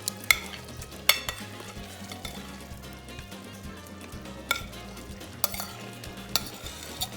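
Shrimp and translucent onions frying in a pan, a soft continuous sizzle with several sharp utensil scrapes and clicks as the mix is stirred; no voices.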